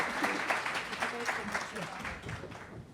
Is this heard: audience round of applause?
yes